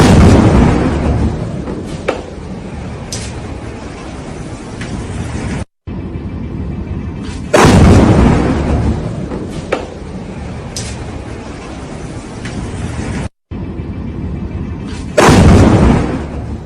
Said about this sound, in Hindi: इजराइल के मुख्य शहर में जबरदस्त बमबार्डिंग की तस्वीरें सामने आई है